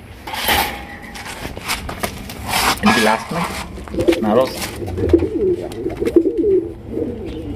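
Pakistani pigeons kept for sale coo in soft, repeated throaty calls close by. Rustling and shuffling among the birds runs between the coos.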